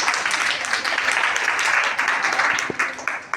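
Children in a classroom clap together for a classmate after a quiz answer, a dense, steady patter of small hands filling the room throughout, fairly close and continuous.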